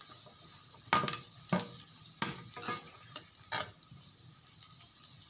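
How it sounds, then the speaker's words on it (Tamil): Onions, garlic and curry leaves frying in a pan for a fish curry, a steady soft sizzle broken by several sharp scraping stirs of a spoon against the pan, close and alone. "வெங்காயம் நல்லா வதங்கிட்டுருக்கு."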